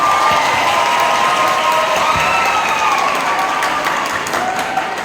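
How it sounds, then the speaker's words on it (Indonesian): Vocational high school students at SMK Nurul Islam in East Jakarta clap and cheer together, a loud, continuous crowd roar of hands with shouts and whoops mixed in throughout. "Oke, tepuk tangan untuk kita semuanya."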